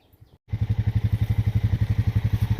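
Small Honda four-wheeler fitted with tracks, engine firing into a steady, rapid thumping idle after a brief quiet start, loud and close, out in a maple sugaring setting.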